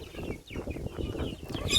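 Several hens and chicks cluck and chirp together close by in a coop, a busy overlapping chatter with a few higher peeps near the end.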